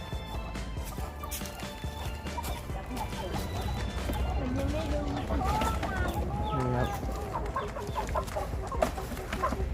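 A chicken clucks and squawks loudly close by while people try to catch it by the legs, over a busy outdoor background.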